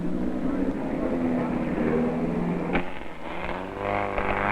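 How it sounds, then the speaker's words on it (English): A Lofa, a car with a Lotus body and an Alfa Romeo engine, runs with a loud continuous engine drone that rises in pitch toward the end, close by and without speech. "This one its owner calls a Lofa. Lotus body, Alfa Romeo engine."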